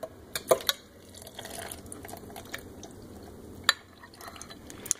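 Kefir with its grains poured into a metal colander in a kitchen, a faint trickle and light liquid splashing with a few sharp clinks against the metal, quiet throughout and with no voices.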